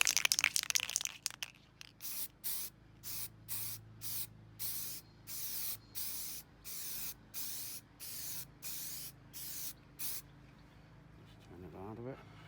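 An aerosol can sprays a second coat onto a plastic model in a rapid series of short, loud hissing bursts, about a dozen evenly spaced, with brief silences between them.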